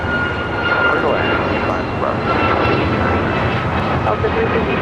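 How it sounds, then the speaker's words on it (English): An Alaska Airlines Boeing 737 MAX 9 jet taking off at LAX, a loud, steady roar of jet engines with a broad rushing hiss that holds throughout, close and continuous. "This is Alaska Airlines Flight 380 taking off to Fort Lauderdale on a MAX 9."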